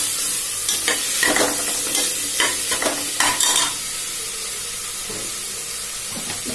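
Ginger garlic paste sautés in a pan for potato biryani, giving a loud, hissing sizzle with bursts of stirring scrapes over the first few seconds before it settles into a steadier, quieter fry.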